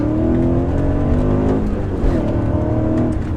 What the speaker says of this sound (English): It still sounds like that awesome naturally aspirated V8 and it pulls harder